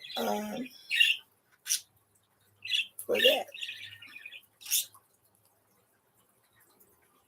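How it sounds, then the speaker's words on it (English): Pet birds chirp and squawk in short bursts nearby, with a voice speaking briefly between the calls, then quiet. "I love to hear my birds."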